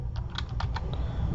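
Several quick keystrokes tap on a computer keyboard in a short irregular burst, close and fairly quiet over a low room hum, with no one talking.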